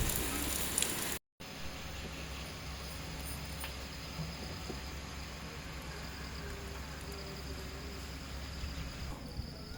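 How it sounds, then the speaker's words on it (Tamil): Heavy rain at a railway station as an express train prepares to leave, a steady, even hiss that fills the whole scene at moderate level, with a brief dropout near the start and faint scattered ticks underneath. "வண்டி கிளம்ப சொல்ல சரியான மழை பிடிச்சிக்கிச்சுங்க"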